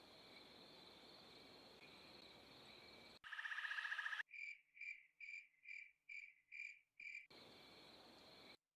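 Crickets chirp in rapid, evenly spaced bursts, loud and close, with a steady insect trill before and after, as ambience for an Unreal Engine 5 game cutscene.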